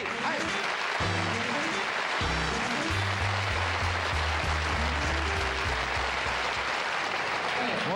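Studio audience on a 1974 late-night talk show applauds and cheers loudly for Rodney Dangerfield, a dense, steady wash of clapping through the whole stretch, with a brief voice and some band music underneath.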